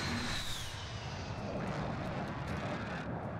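Helicopter in Call of Duty Warzone, a steady broadband engine and rotor drone holding at even loudness throughout, fairly close, with no talk over it.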